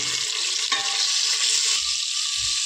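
Mutton fat sizzles and fries in hot oil with ginger, garlic and coriander paste inside a pressure cooker, a steady dense crackle that stays loud throughout, with a few soft low knocks near the end.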